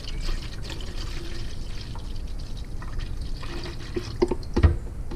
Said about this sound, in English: put in my antifreeze.